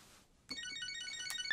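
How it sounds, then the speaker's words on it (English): A phone rings in a video game with a melodic ringtone for an incoming call, starting after a brief quiet moment and growing louder over its bright repeating notes. "I got a phone call."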